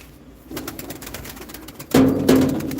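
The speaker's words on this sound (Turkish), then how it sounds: "Şu uçan kuşu da alalım." A pigeon coos twice, low and close, over a soft background of rustling and faint noise.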